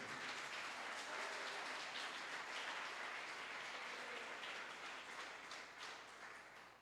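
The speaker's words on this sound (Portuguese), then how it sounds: "Vamos dar um aplauso à palavra do Senhor." Congregation in a church applauds, a dense wash of clapping that holds steady and then slowly fades toward the end, heard from a moderate distance with no talking.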